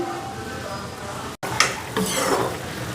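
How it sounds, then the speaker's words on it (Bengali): Fish curry broth bubbling and sizzling in a pan: a close, steady hiss broken by a brief gap, then a louder scrape and clatter of stirring. "তো ওইদিকে মাছের ঝোল জাল হয়ে গেছে, তো মাছগুলি দিয়ে দিই"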